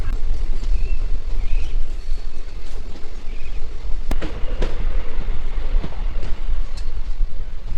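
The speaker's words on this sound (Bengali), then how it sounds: "লাটাগুড়ি ঢুকছে আমাদের ট্রেন আর লাটাগুড়িতে আমরা নেমে যাবো" A train rolls steadily into Lataguri station in the Dooars forest region, a continuous loud rumble of wheels on rails with a few sharp squeals and clicks, no talking.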